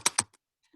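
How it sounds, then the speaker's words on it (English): Two quick, crisp keystrokes on a computer keyboard, close and isolated, followed by a fainter tap and near silence. "That's the sound of me typing on the keyboard on the website to get that fiber."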